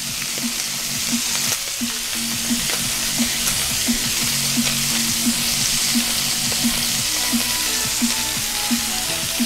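Chicken sears hard in hot oil in a pan, giving a loud, steady sizzle with small regular pops and spatters throughout.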